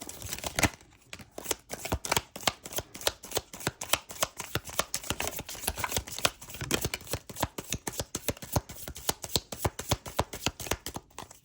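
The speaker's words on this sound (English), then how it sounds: "One more shuffle." A deck of tarot cards is shuffled close up in a quiet room, a long run of quick, crisp riffling flicks and soft slaps repeating in a steady, busy rhythm with no talking.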